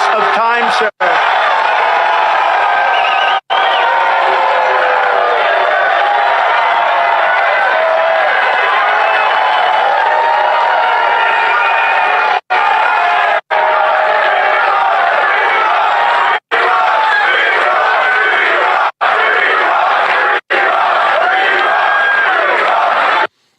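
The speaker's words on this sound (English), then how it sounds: "So the crowd was obviously really happy about that." A large crowd at a political speech roars and cheers loudly and continuously, heard as a played-back recording with a few abrupt brief cut-outs along the way.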